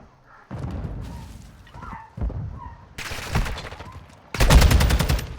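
A grenade goes off in a competitive shooter match, with booming blasts and bursts of gunfire stacking up and ending in a loud, dense explosion, all heard amid game sounds without commentary over it.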